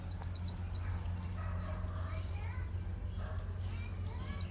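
A small pet chicken in Bohol gives a quick series of high, repeated peeping clucks over a steady low background hum, close and moderately clear.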